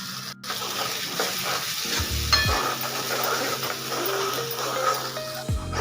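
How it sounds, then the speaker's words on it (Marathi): Ground masala paste frying in oil for a besan vadi curry, a steady close sizzle with repeated scraping strokes of a spoon against the pan and some faint tonal hums, no talk. "आपण जे वाटण बनवून घेतलेलं आहे ना ते आता तेलामध्ये टाकून घेऊया। तेल सुटेपर्यंत छान परतून घ्यायचं आहे।"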